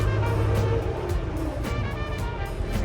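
Komatsu WA200-1 long-arm wheel loader with its engine revving up under load, a loud, continuous low diesel roar with mechanical rumble that stays steady close by throughout.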